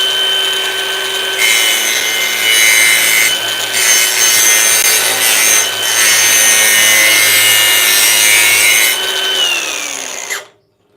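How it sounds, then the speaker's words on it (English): A bench grinder sharpens a worn lawn mower blade, giving a loud, steady high-pitched grinding whine with rising and falling scraping surges for about ten seconds, then cutting off abruptly at the end. "this is going to be pretty loud because I'm getting ready to turn the grinder on"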